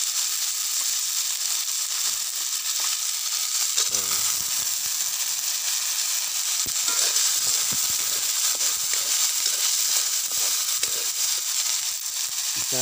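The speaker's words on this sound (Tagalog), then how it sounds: "ginigisa ko na ngayon po ang ating suso" Snails (suso) sautéing in a pan at a home cooking spot, with a steady, dense sizzle and hiss running the whole time and a few faint clinks and stirring knocks.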